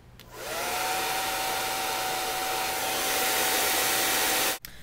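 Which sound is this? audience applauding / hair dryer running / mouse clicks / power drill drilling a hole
hair dryer running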